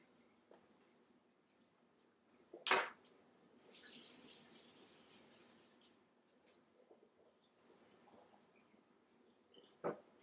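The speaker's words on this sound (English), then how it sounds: "Let me rinse this off real quick." A pH probe crusted with salt crystals being rinsed under a tap, with a soft splash of running water lasting a couple of seconds, a sharp knock before it and another brief clatter near the end, all quiet and close.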